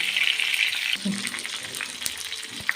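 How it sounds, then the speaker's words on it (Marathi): Eggplants sauté in hot oil with cumin and mustard seeds, a brief, close frying sizzle with a soft stir and a small clink near the end. "हे वांगे आता मस्त परतून घेते"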